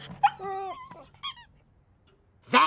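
A cartoon dog whimpers in short, high, wavering squeaks, two or three separate whines with quiet gaps between, close and clear in an animated comedy scene.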